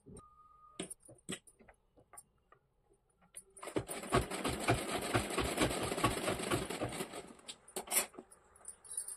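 A sewing machine stitches a folded border strip for a saree, running steadily at close range for several seconds in a rapid mechanical patter, framed by soft clicks and handling taps before and after.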